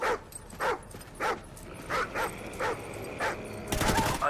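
A dog whimpers and yips in short, evenly spaced bursts during a Call of Duty Ghosts campaign level, ending in a louder burst of noise.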